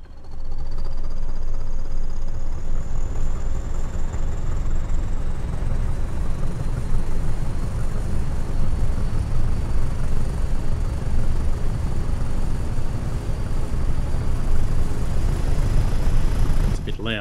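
A train locomotive in the Train Sim World game powering on, a loud steady engine rumble and hum with rising whine tones, continuous throughout and heavily layered under ongoing talk.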